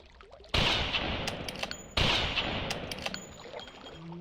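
Two gunshots in Carnivores Jurassic Park Revolution, each a sharp loud crack with a long ringing decay, spaced about a second and a half apart.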